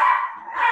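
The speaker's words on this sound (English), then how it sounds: "The other dog is barking." A dog barks in a single loud, close bark lasting under a second, with no other sound around it, heard from the set of a television dance competition.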